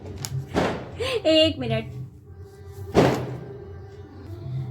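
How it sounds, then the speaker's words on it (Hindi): Firecrackers burst nearby during a local puja: two sharp, loud bangs about two seconds apart, with someone talking between them. "पटाखे ही पटाखे चल रहे हैं भाई"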